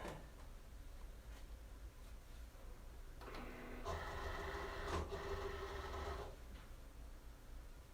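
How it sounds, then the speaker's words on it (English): Cricut cutting machine loading a sheet of printable adhesive vinyl, a faint quiet whir with a few soft mechanical clicks and a brief louder motorized run in the middle. "Now I'm going to load it into the Cricut."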